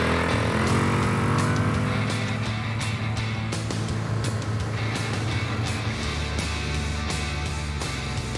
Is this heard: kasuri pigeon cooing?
no